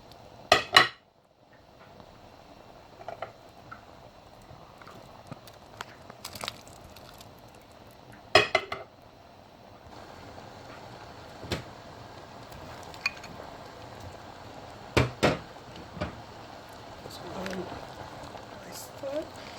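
A spoon knocks and scrapes against a pot while egusi soup with meat is stirred, a few sharp clinks scattered over a quiet background hiss.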